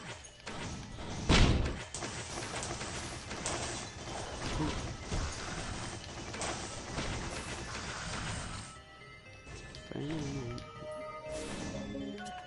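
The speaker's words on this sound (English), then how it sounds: "Look how many rockets I shoot." Rockets from a stacked rocket pack in the video game Risk of Rain burst out in a dense, continuous clatter of thuds and crashes, with one heavy impact early on and busy game noise throughout.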